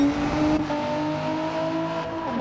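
A race car in a racing video game rolls out of the pits at Goodwood, its engine a steady, loud, tonal drone with slight pitch shifts as it moves off, and no talk over it.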